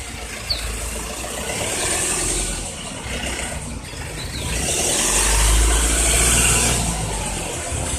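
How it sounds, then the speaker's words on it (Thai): Pickup truck engine revved while stationary during a first driving lesson, a steady loud idle swelling into longer, louder revs, close up with no talk. "เบิ้ลเบิ้ลเล่นๆไปดูก่อนเพื่อปรับตัวก่อน"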